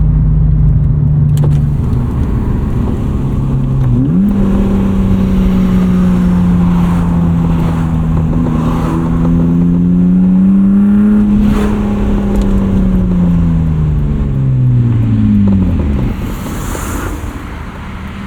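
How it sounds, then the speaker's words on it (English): 1995 BMW E36 325i with a 2.5 L inline six and five-speed manual, heard from inside while driving: the engine drones loudly, revs rise and fall through gear changes, and no one talks over it. "This whole video is just inline 6 noises."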